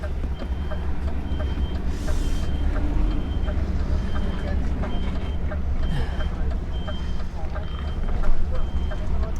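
A reversing beeper repeats steadily over the loud rumble of a truck hauling a step frame trailer with hazards on, the engine drone dominating throughout with a brief louder burst near the end.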